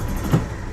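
A 2004 Club Car Precedent gas golf cart engine cranks without starting, a brief close mechanical churning with one slightly louder pulse, no voices.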